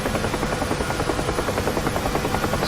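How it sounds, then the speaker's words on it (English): A UH-1 Huey helicopter in the DCS flight simulator gives a loud, steady rotor thump with a rhythmic chopping pulse and an engine buzz beneath it, close and continuous throughout. "this helicopter really is really much a hands-on way of flying"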